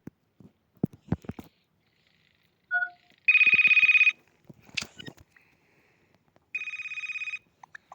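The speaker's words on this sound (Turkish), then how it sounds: "Alarm alarm çalıyor. Alarm çalıyor." An electronic alarm rings in two buzzing bursts separated by a pause, with soft rustling and small knocks around it.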